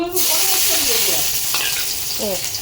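Garlic sizzles as it hits hot caramelized sugar in a pan for chicken curry, a loud continuous frying hiss with a few clinks of stirring, and no one speaking.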